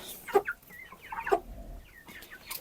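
Broiler chickens in a cage clucking in a few short bursts, close and moderately loud, with quiet pauses between calls.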